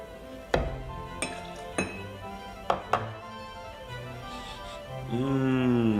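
Whiskey poured into a glass for a hot toddy: a few sharp glassy clinks and knocks, then a close, steady pour whose ringing pitch rises as the glass fills.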